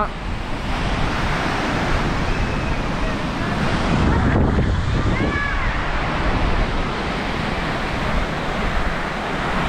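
Evening surf breaks on a beach, a steady loud wash of waves with gusty wind buffeting the microphone and a brief swell of breaking water midway, voices faintly underneath.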